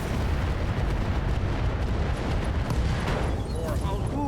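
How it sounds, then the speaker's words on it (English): A loud, sustained roar of explosive rumble from an ammunition explosion in the RogueTech mech video game, dense and continuous, with a few brief tonal effects near the end. "explosion containment from the ammo explosion"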